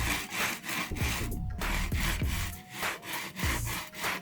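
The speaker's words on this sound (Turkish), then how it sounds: "Bu fazlalıkların gitmesi için hafif hafif zımparayla geliyorum." Repeated rasping strokes of sandpaper rubbed by hand over a painted decorative jar, steady back-and-forth rhythm, close and fairly loud with no talking.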